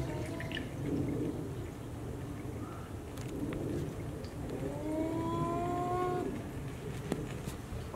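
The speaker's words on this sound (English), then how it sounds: "time to put a gallon of rubbing alcohol in the gas tank" A gallon of rubbing alcohol glugs and trickles into a car's gas tank, soft, uneven gurgling with a few rising bubbly tones near the end, faint and fairly close.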